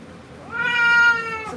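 A cat lets out a single drawn-out meow while being groomed with a glove, rising and then falling in pitch, close and clear against a quiet room.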